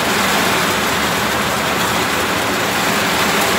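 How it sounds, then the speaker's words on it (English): Heavy rain pours down outside a truck as a dense, steady hiss that stays loud and unbroken throughout, with no voices. "it's pouring down rain."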